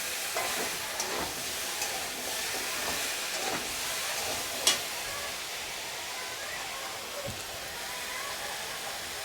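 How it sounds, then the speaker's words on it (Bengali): A large tomato and about one and a half teaspoons of sugar are stirred in a pan over steady, soft sizzling, with scraping strokes and one sharp clack near the middle. "একটা বড় মাপের টমেটো দিয়ে দিলাম, দিয়ে এটাকে এবার ভালো করে নাড়বো আমি"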